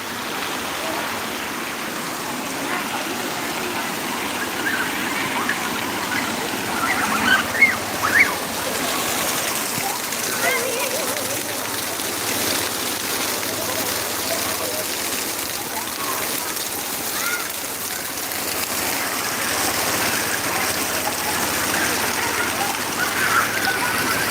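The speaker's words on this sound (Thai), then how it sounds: "นี่ฝนตก" Steady rain falls outdoors near a mountain temple in Loei, Thailand, a continuous close hiss of drops on surfaces lasting the whole stretch, with a few brief louder knocks partway through.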